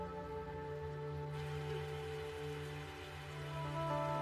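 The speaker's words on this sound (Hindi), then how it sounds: "ये बारिश तो रुक ही नहीं रही।" Steady rain falling in Tokyo, a continuous even hiss with a low background hum, no voices.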